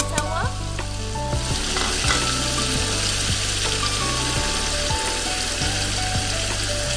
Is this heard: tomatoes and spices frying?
yes